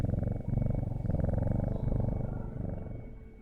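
A cat purrs in the video game Strange Horticulture, a steady, close, low rumbling purr with a fast pulsing rhythm that runs throughout and fades slightly at the end.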